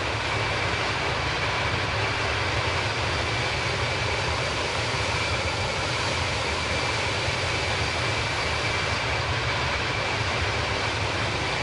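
An Airbus airliner cruises high up in Microsoft Flight Simulator, giving a steady, unbroken cabin roar and engine drone that holds at an even level throughout, with no voices.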